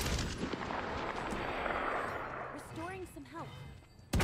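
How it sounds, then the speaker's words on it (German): Gunfire and explosive blasts in the battle royale game Realm Royale, a dense, rumbling barrage of shots with a few short whistling effects, under German voices talking. "Schießt der Bastard die ganze Zeit auf uns, oder was?"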